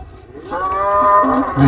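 At a cattle market, a large cow lets out a loud, drawn-out moo with a rising, harmonic tone. It sounds close by, with some crowd noise behind it.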